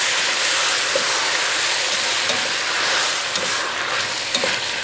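Vegetables with chopped tomatoes sizzle steadily in a hot pan, with occasional soft scrapes and taps of a utensil stirring them. No one speaks.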